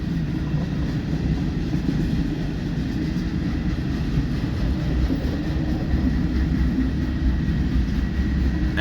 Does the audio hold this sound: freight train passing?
yes